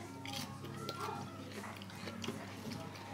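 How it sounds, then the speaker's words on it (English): Someone bites into and chews crunchy pub onion rings up close, with faint crackly crunches over low room noise and background chatter. "Some people might say that the crunch on that was just right."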